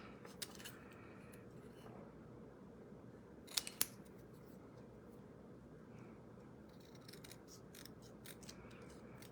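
Small paper snips cut cardstock at a craft table: a couple of quick, crisp snips in the middle, faint and close, with a few tiny clicks around them in an otherwise quiet room.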